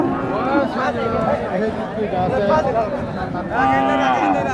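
Cattle low and moo among a busy crowd at a livestock market, several drawn-out calls rising over constant nearby chatter of people talking.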